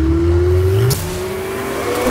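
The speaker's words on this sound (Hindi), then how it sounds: "एकदम फुर्तीली तरीके से गाड़ी आगे निकल जाती है कोई भी गियर में" BMW M340i, a 2021 car with an 8-speed ZF automatic, accelerating hard: a loud rising engine tone that dips briefly at a gear change, then climbs again.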